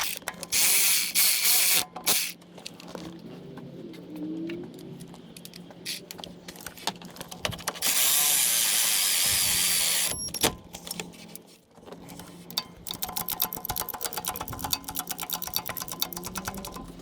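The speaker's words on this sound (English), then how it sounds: "tightening up the alternator" A ratchet tightening alternator bolts on a 2007 Toyota Camry, with long runs of close, rapid clicking broken by bursts of loud hissing noise and brief pauses in a garage setting.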